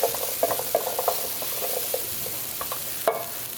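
Sweet potatoes sizzle and fry in a pan as they brown, a steady close hiss with light stirring scrapes and clicks, no talk.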